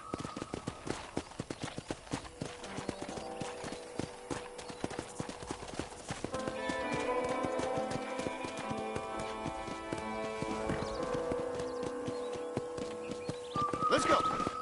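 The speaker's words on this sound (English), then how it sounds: "Okay, let's see if you can still ride a horse." A horse gallops in Red Dead Redemption, its rapid rhythmic hoofbeats drumming close throughout, with game music swelling beneath from midway and speech in places.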